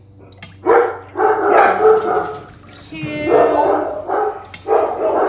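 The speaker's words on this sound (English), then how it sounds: "sorry about my dogs, guys." Dogs bark in a few bursts at close range, loud against a person counting aloud and talking.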